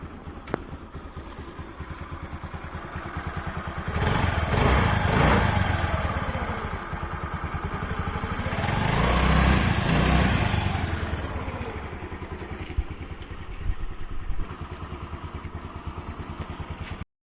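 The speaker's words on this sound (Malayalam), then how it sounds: "വണ്ടി ഒന്ന് സ്റ്റാർട്ട് ചെയ്ത് നോക്കാം." A used motorcycle with a new key set starts and settles into a steady idle, its engine chugging loudly and continuously up close with a couple of swells in volume.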